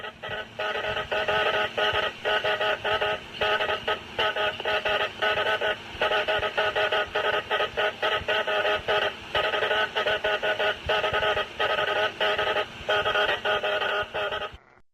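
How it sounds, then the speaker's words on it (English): Morse code distress signals sent from the Titanic to other ships, heard as loud, steady radio tone bursts in rapid on-off keyed rhythm, running continuously over a low background hiss. "signals desperately sent in Morse code to other ships"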